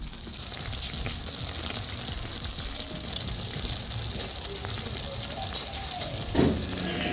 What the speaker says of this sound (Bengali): মাছগুলো দিয়ে 2 মিনিট খুব ভালো করে ফুটিয়ে নেবো